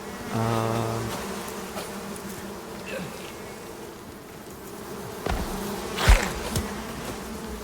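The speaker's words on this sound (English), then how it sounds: "Oh, bees. Bees." Bees drone steadily in the video game ICARUS with a close, continuous buzzing hum, louder near the start, while faint thumps and scuffs sound around them.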